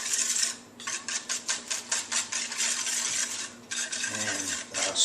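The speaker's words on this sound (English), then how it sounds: "and start stirring it" A spoon stirs pie filling in a pot, scraping in a steady rhythm of short strokes at close range, with a brief pause partway through and no talking.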